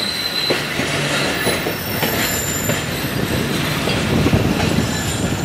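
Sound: Rehman Baba Express passenger train running on rails

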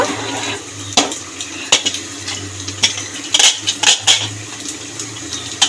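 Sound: pressure cooker being taken off the stove

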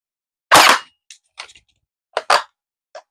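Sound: dry fire of a Zius BK1S bolt-action blaster

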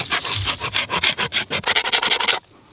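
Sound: scraping bark with the back of a folding saw

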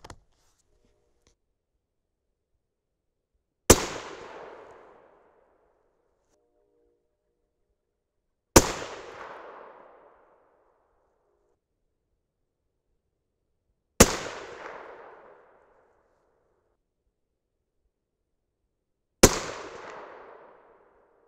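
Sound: 6.5 Creedmoor rifle shots, 130gr Sierra GameKing, Winchester 760

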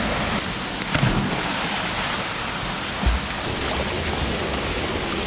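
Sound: waterfall on the Azores

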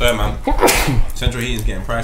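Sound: sneeze

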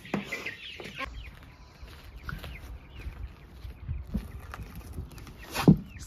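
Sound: chicks peeping and clucking

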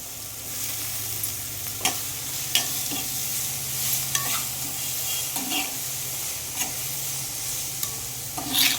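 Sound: onion frying in hot oil with turmeric

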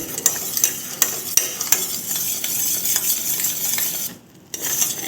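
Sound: stirring porridge in a pan

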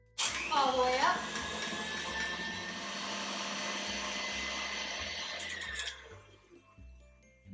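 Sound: stand mixer beating butter frosting at full speed

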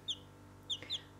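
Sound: chickens clucking

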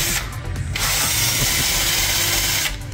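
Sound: buffing rust off brake calipers

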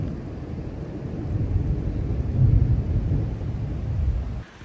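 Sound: thunder during summer monsoon in Cimarron Canyon

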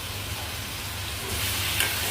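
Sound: eel stir-frying in curry paste

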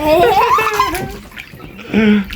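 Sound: water filling a pool

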